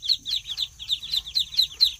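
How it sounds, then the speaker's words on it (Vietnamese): Black Muscovy ducklings in Can Tho give a rapid series of high, thin peeps, several overlapping calls in quick succession, close and clear over a low background rumble. "Vịt Xiêm đen, vịt Xiêm ta của mình."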